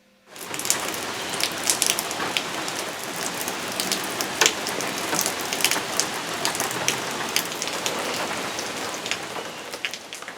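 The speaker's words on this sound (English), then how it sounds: "I was hearing the rain coming down" Steady tropical rain from a cumulonimbus pours down and patters on surfaces nearby, a dense constant hiss with scattered sharper drops, alone with no talk.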